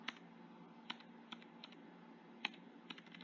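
Faint, sparse keystrokes tap on a computer keyboard at an uneven pace, quiet clicks separated by short pauses.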